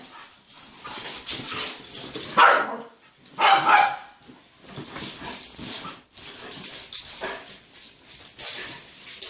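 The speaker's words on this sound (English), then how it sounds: "Because she's our guard dog." A household guard dog barks loudly and repeatedly in uneven bursts, with a few whimpers and wheezy breaths between them, close to the listener and with no talking.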